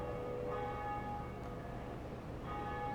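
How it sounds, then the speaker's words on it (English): A Bell of Awakening rings in the video game Dark Souls, giving faint sustained tonal chimes that linger over a quiet, steady background hum. "So we're gonna ring one of these Bells of Awakening."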